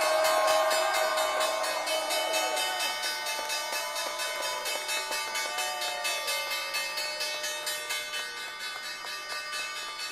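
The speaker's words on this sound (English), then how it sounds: "Time now for the bell." The stock exchange closing bell rings in rapid, steady repeated strikes on a trading floor, bright metallic clanging that carries on continuously over a faint background murmur.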